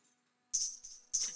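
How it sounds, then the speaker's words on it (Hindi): Ankle bells (payal) worn on the feet jingle in two short, bright metallic bursts a moment apart, close and crisp after a near-silent start. "ये पायल की आवाज कहाँ से आ रही है?"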